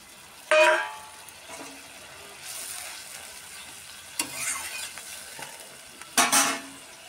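Fish sizzling as it fries in a pan with water added, stirred now and then, with a few sharp bursts of sizzle between quieter spells of bubbling, close and fairly loud.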